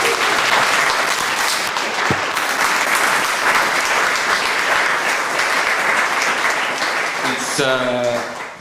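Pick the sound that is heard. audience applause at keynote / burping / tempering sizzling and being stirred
audience applause at keynote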